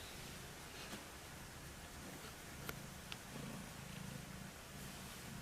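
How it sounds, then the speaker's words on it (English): A feral cat being socialized, resting on a staircase, purrs softly and steadily at close range, a faint continuous low rumble with a few small rustles and no talking. "Do you hear him purring?"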